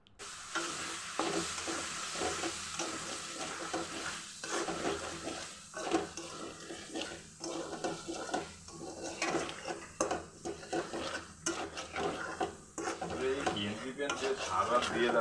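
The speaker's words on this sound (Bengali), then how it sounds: "তো নাড়াচাড়া করে দেখছি।" Loitta dried fish bhuna is stirred in a pan, with a soft sizzle beneath repeated metallic scrapes and clinks of the spoon against the pan, close and steady over a long stretch without talking.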